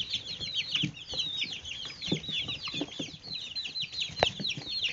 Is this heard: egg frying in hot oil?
no